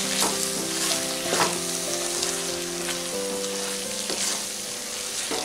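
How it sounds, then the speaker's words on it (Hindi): Mushroom and pea curry sizzles loudly in a pan as fresh coriander is stirred in, a constant crackling fry broken by a few scraping stir strokes, close and without talk. "अब हम इसमें हरा धनिया डालेंगे, मिक्स कर लेते हैं"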